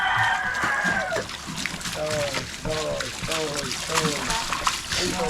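A rooster crows, followed by repeated chicken clucks and calls, with a person talking over them and a trickle of water in the background, in the Philippines.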